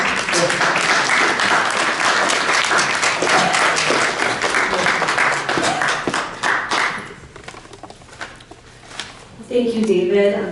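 Audience at a community coffee hour applauding a guest speaker, a full round of close clapping that thins out into scattered claps, then a voice speaks at the end.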